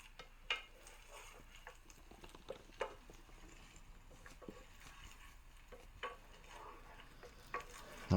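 Beaten egg being stirred through beef and shrimp fried rice in a pan, with soft scraping and stirring taps in a steady, close rhythm over a quiet background and no talking.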